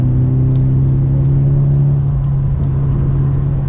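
Car with an SR engine pulling hard on a North Carolina mountain road, a steady loud droning engine note with a low hum that holds under light wind or road noise.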